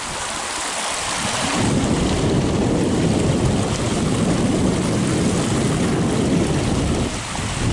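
Rainwater rushes through a freshly cleared pipe and down a short, steep rock-lined spillway into a small pond after five inches of overnight rain, a steady broadband roar of flowing water that swells after the first second and holds loud throughout.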